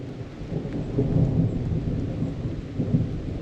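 Low rolling thunder rumbles through steady rain, swelling and fading without a sharp crack, heard alone with no voices.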